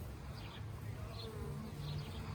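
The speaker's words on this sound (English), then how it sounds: "I noticed the bees were starting to swarm." A swarm of honeybees in a hot-weather garden gives a faint, steady, low buzzing hum that runs continuously throughout at a distance, with no voices.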